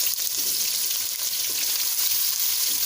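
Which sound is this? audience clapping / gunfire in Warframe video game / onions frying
onions frying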